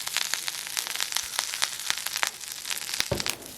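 Curry leaves sautéing in a pan give a steady close crackle and sizzle, with dense popping ticks throughout and a brief low thump near the end, with no speech.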